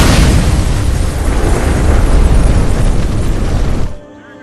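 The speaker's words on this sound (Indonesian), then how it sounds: "bom pun ia ledakkan" A bomb blast from an action film about a sniper: a loud, sustained roaring explosion rumbling for about four seconds before cutting off abruptly to near quiet.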